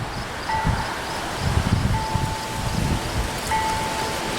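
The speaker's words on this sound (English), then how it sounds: "It's pretty windy out today." Wind outdoors on a breezy day, a steady rushing hiss with soft irregular gusty thumps against the microphone, while a faint thin tone comes and goes in the background; no one speaks.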